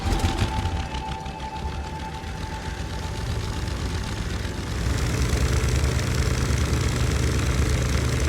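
A steady boat engine drone in the game The Sinking City runs throughout, rough low rumble with a faint whine, growing slightly louder and fuller about halfway through.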